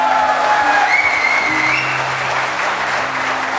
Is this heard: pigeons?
no